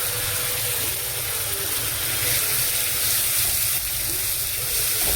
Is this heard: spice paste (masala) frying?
yes